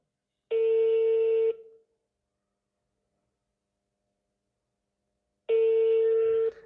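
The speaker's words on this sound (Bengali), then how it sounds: "ফোন দিতেছি, ফোন ধরতেছে না।" Ringback tone of an outgoing phone call that goes unanswered: two clear, steady electronic ring bursts about a second long, spaced several seconds apart with silence between, with no voices.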